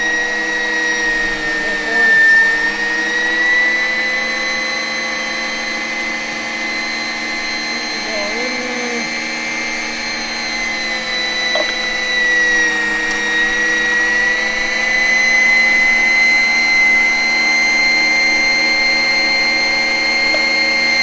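A meat grinder runs continuously as it grinds venison with added fat for burgers, a loud, steady motor whine and hum that holds nearly unchanged for the whole stretch, with only slight shifts in pitch.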